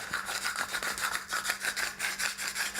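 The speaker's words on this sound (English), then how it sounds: "ready to grind up for the Mighty Vaporizer using the included orange plastic grinder" An orange plastic herb grinder being twisted by hand, producing a rapid series of rhythmic scratchy grinding strokes, close and even in loudness, with no voices.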